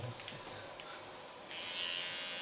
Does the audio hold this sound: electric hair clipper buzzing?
yes